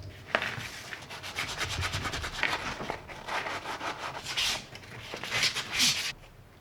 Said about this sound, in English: sand it on the areas where it would take the most use, which is usually where the leather is exposed